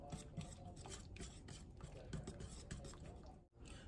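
Dry ingredients, including hickory salt, stirred for a homemade peach habanero BBQ sauce: a steady scraping, rasping swirl close by, continuous and even, with a brief break near the end.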